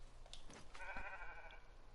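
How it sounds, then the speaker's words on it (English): A sheep bleats once at middling distance amid outdoor ambience in the hunting video game theHunter: Call of the Wild, with no talk. "That sounds like a sheep."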